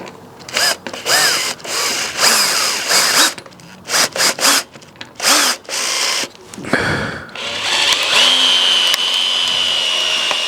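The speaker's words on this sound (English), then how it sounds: "now I've got this on drill, so none of the torque settings make any difference, and I'll put it on speed 1" A Parkside impact driver in drill mode at speed 1 bores into wood in loud, close bursts of motor whine that start and stop repeatedly, ending in a longer run with a rising pitch.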